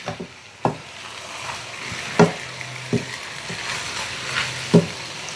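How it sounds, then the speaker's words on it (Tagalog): Tinumis being stirred and sautéed with fish sauce in a pan produces a soft background sizzle broken by a few sharp utensil scrapes and knocks against the pan, spaced irregularly and close by. "Next, patis. Then, haluin. Sangkotsahin maigi."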